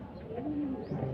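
A Chinese pigeon giving a single soft, low coo, close by and fairly quiet over faint background noise.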